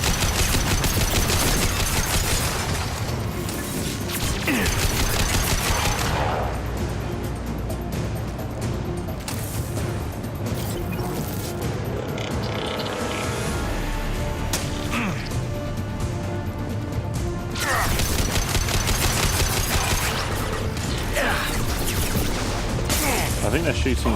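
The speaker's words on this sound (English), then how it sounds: "I think they're shooting in front of me here." Gunfire and crashing impacts from the Mass Effect 2 Project Overlord mission, continuous and dense over a loud game soundtrack, with a player talking throughout.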